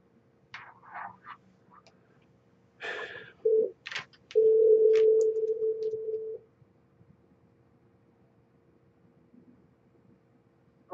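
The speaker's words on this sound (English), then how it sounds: "I'm going to go to the little board here and dial her in" Telephone line tones sound while dialing a guest into a KUHS radio show on a studio phone board: short dial beeps, then a longer steady ring tone, clear and alone, followed by quiet.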